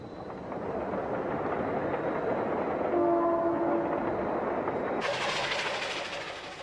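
Steady rumble of a model train running along the track of a large indoor layout, a horn tone sounding briefly midway, then a hissier, brighter roar toward the end.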